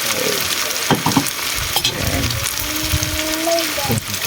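Tofu and pork fry in a pan with a steady sizzle, stirred now and then with scraping and clatter, heard up close while someone speaks briefly.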